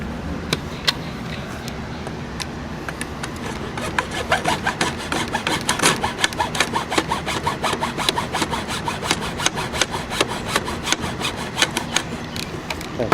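A hand saw cuts through a wooden six-light window sash profile, with rapid rhythmic rasping strokes that speed up and grow sharper after a few seconds, close and continuous, no talking.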